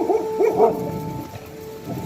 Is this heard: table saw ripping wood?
no